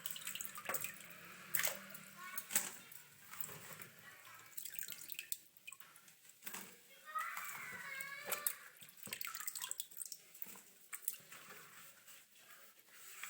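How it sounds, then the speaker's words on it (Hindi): Water dripping and trickling out of a basket of freshly washed turmeric roots in a home kitchen, faint irregular drips and splashes heard close, with a brief voice in the background. "अब इसको एक टोकरी में निकाल लूँ जिसमें से पानी भी निकल जाए था"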